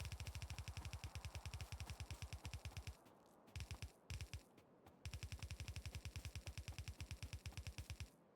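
Automatic gun turrets in Factorio fire in long rapid bursts with a steady, loud rattle. The bursts break off briefly in the middle, then resume and carry on to the end.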